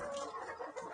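A Sonali hen clucks softly on a poultry farm in a short burst of a few throaty notes, close by and fairly quiet.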